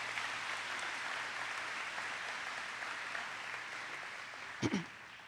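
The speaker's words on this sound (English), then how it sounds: "Let's give them one more round of applause." An audience at the Pine School class of 2017 graduation ceremony applauds in a steady, even wash of many hands, moderately distant, before a brief nearby bump and clatter near the end.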